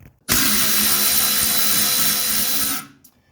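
A power tool buzzes steadily for about two and a half seconds, loosening a brake bracket bolt on a 1980 Mercedes 300SD during brake caliper replacement. It is loud and close, with a sharp start and stop and no talk.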